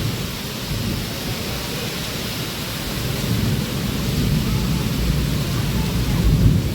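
Heavy rain pours steadily over farmland during an all-day downpour, a dense continuous hiss with low rumbling underneath that could be distant thunder, growing slightly louder toward the end.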